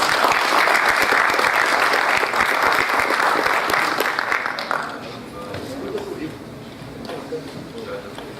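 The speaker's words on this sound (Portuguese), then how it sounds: "Nossos aplausos para o Comendador Dr." An audience applauds at a Brazilian heraldry and humanities award ceremony, dense sustained clapping for about five seconds before fading into room murmur and scattered claps.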